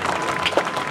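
Crowd applause at the opening ceremony of the 2023 Cheonan K-Culture Expo, a short steady burst of many people clapping at moderate volume.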